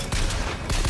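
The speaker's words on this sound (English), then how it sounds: "this pistol goes crazy" Pistol gunfire in the video game BioShock Infinite, a quick burst of a few loud, close shots packed into a single second.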